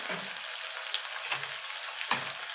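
Chili and turmeric powder spices frying in a pan for vegetable khichdi, a soft steady sizzle with a few light stirring clicks and scrapes, fairly quiet and close, with no talking.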